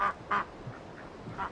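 Ducks in a restaurant's vegetable garden give several short quacks, a pair close together, then a softer one, heard at moderate distance over outdoor ambience.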